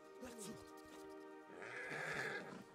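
Horses neigh and whinny among the mounted knights of Gondor cavalry in the Total War Attila game with The Dawnless Days mod, overlapping whinnies over soft hoof clatter with someone talking.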